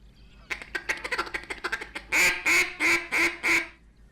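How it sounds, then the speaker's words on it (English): A short reed goose call blown in a series: a quick run of clipped notes, then five louder, drawn-out honks in a steady rhythm, close and clear with no talking. "He was really good on these short reed goose calls"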